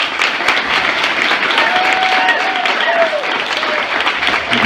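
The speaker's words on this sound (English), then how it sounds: "One more round of applause." An audience applauds after a three-minute invention pitch, sustained loud clapping throughout with a faint tonal whine running underneath.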